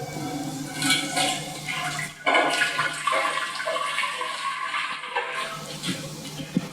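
Water pours and splashes into a metal pot, a rushing gush with sloshing and bubbling that tapers off, close and fairly loud.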